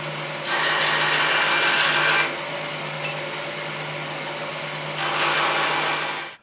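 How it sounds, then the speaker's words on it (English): A bandsaw cuts small wooden spline pieces in two bursts of dense, steady cutting noise over a constant motor hum, with a sharp tick between cuts and no talking. "here I am at the bandsaw. What I'll do is I'll just go ahead and cut off these pieces for the splines."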